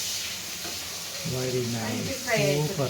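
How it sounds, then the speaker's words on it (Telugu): Drumstick pieces frying with turmeric in a pan, giving a soft steady sizzle, while a voice talks over the second half. "కొంచెం పచ్చి వాసన పోయేంత వరకు వేయించుదాన్ని"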